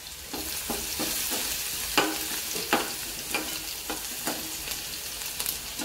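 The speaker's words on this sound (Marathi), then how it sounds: "लसणाला छान असं परतून घ्यायचं।" Garlic sautés in hot oil with cumin in a pan, a steady close sizzle punctuated by repeated scraping clicks of a spoon stirring, with no talk.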